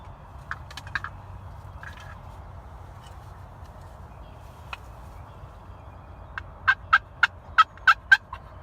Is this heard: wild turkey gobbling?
yes